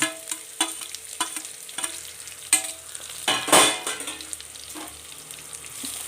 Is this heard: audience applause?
no